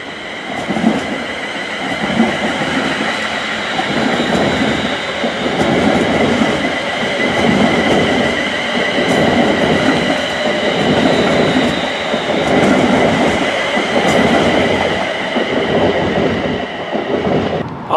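Freight train rolling past close by, a loud continuous rumble with rhythmic clickety-clack of wagon wheels on the rails and a faint squeal, no voices.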